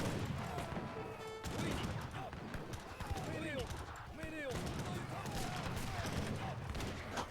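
Repeated musket and cannon gunfire crackles through a battle in Age of Empires III: Definitive Edition, a busy, continuous clatter that runs underneath ongoing talking.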